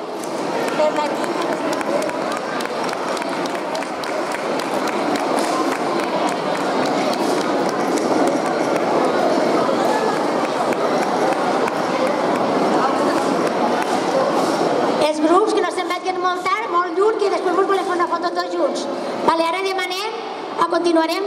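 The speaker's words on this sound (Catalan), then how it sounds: "Un fort aplaudiment per la tia." Sustained applause from a large crowd at a children's and youth folk dance gathering in Les Coves de Vinromà, dense and steady, fading into a speaking voice near the end.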